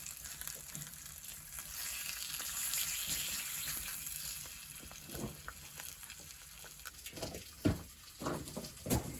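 An egg and sausages fry in a pan on a potbelly stove, giving a steady soft sizzle with occasional pops and scraping clicks toward the end.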